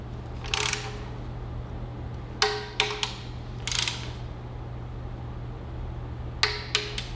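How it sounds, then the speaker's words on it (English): Ratchet tightening oil pan bolts on a Dodge Grand Caravan with a 3.6 V6, short bursts of rapid clicking repeated several times close up over a steady low hum. "So we've now got all of our bolts tightened up to the correct Dodge factory specification."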